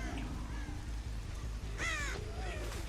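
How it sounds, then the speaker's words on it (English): Crows caw in a game of Dead by Daylight, a harsh burst of calls as they flap up into the air, standing out over steady low background hum and game ambience. "That crow just went up in the air."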